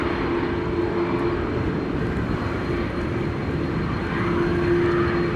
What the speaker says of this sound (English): Air Canada Flight 808 seems to be landing on it right now.